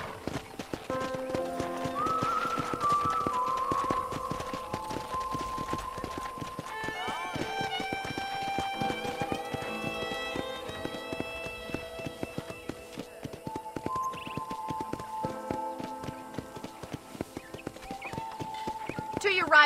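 Horse hooves clip-clop steadily in Red Dead Redemption, with a whinny or two. Talking and game music run alongside throughout at moderate level.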